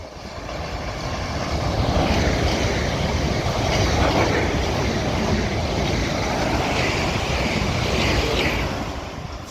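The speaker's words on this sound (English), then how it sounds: "So this one down here is going to be doing the fast service from Woking to London Waterloo." A South West Railway train runs through West Byfleet station on the South West Main Line, a loud, steady roar with rail clatter that builds, holds for several seconds and fades.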